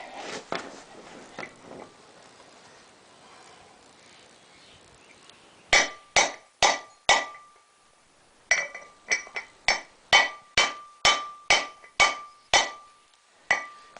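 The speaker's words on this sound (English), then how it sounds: "so I get my 1 7/8 inch socket here. And I start tapping on it." A hammer taps a 1 7/8 inch socket onto a front wheel bearing of a 2001 Ford Ranger, giving a long run of sharp, ringing metallic strikes at an even rhythm after some softer clinks at the start.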